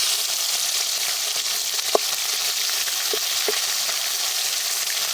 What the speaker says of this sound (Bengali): তেলটা ভালো করে গরম হয়ে গেছে, এবার মাছ দিয়ে দেবো।